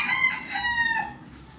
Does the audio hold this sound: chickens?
yes